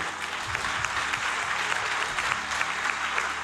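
A church congregation claps in sustained applause, a dense, even wash of many hands that holds steady throughout without pause.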